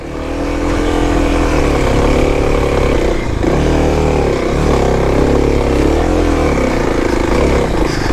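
A 2021 Kawasaki KLX300 dirt bike engine labours up a steep off-road hill as the rider slips the clutch, a loud, close, sustained drone with wavering revs and rough surges, no speech.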